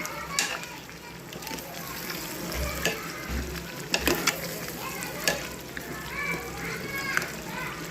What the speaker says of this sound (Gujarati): सरस मजाना આપણે આખા કાંદા મિક્સ કરી દેશું